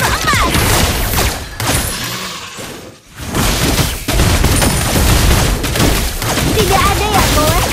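Layla firing golden bullets in the Mobile Legends video game, a dense burst of rapid gunfire and impacts layered with game effects and a voice line, loud and continuous across the scene.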